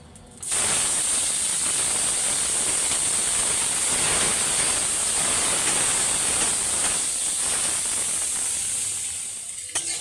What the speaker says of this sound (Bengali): যে গেঁড়িটাকে সিদ্ধ করে রেখেছিলাম সেটা হলুদ দিয়ে আর নুন দিয়ে সেটা এবার এই যে ভেজে নেব।